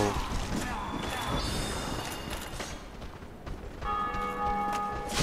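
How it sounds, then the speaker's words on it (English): A bell rings repeatedly in the video game Dark Souls, its tones sounding over busy game noise and a faint voice. "Someone ringing the bell."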